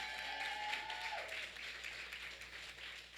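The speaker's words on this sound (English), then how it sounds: "Round of applause for Dominique Moore." At a teacher awards and benefit event, an audience gives faint, distant applause as a soft, steady wash of clapping behind a low hum, with a brief tone at the start.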